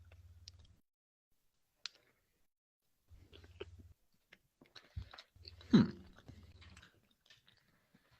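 Close, quiet chewing of a soft banana-flavored cookie or biscuit with a crust, intermittent bursts of mastication and small clicks separated by silence.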